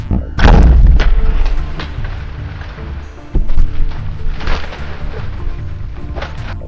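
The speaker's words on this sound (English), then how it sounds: "Looks like the shot went forward a little bit." A single loud rifle shot fired at a deer while hunting cracks out near the start and booms away, then a second sharp report follows midway, with quiet woods noise between.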